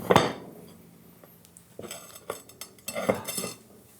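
A metal baking tin of Scottish shortbread is shaken to release it, producing a sharp metallic knock followed by scattered light clinks and rattles.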